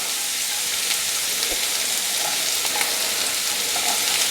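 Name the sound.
frying onions, peppers, tomatoes and green chillies in oil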